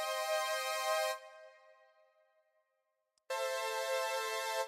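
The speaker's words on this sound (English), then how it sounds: "So the strings, they sound like this." A string sample plays in Ableton Live during an electro track session, a bright sustained harmonic chord that fades out, a short gap of silence, then the chord returns loud and full.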